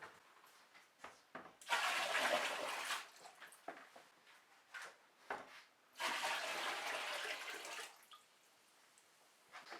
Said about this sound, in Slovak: Teraz keď to máme, dolejeme vodu tak, aby sme dostali 23 litrov.